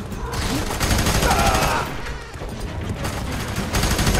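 Sustained automatic gunfire rattles through a firefight in the shooter game F.E.A.R. 3 in a slum district, dense and continuous with heavy low-end impacts, with shouted voices mixed into the chaos.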